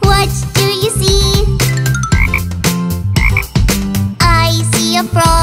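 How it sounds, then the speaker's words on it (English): A frog croaks in a repeated ribbit pattern set into a bright children's nursery sing-along with music, the calls loud and regular and mixed with melodic accompaniment. "I see a frog. Ribbit, ribbit, ribbit."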